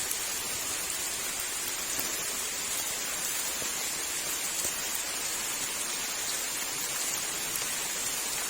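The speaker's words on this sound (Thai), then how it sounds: "ฝนตกนี่แหละ" Steady rain falls at night in a forest as an even hiss with faint scattered drops, continuous and soft throughout, with no voices.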